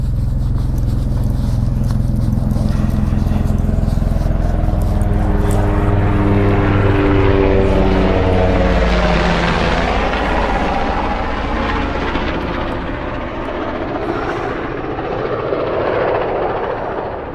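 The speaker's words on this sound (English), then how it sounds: "Helicopter going over it" A helicopter passes overhead at a camp with a tarp, its loud rotor and engine drone rising close, then its pitch dropping and fading as it moves away.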